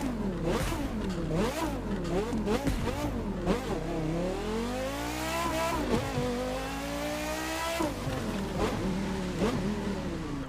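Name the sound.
Porsche Carrera GT engine revving in video game The Crew 2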